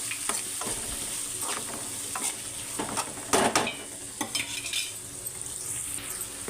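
Tamarind leaves sizzle and fry in hot oil while a utensil stirs them, a steady close hiss punctuated by scraping and clinking against the pan.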